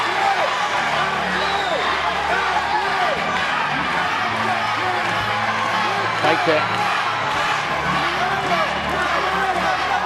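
A live fight crowd at a women's UFC bout roars steadily, cheering and whooping to rally behind Catherine Roy in the final round, a dense continuous wall of noise under commentary.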